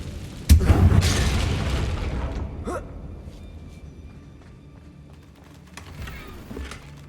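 A single loud, deep explosive boom from the Confringo spell in the Hogwarts Legacy video game, striking sharply and rolling away into a fading rumble with a few faint game sounds afterward.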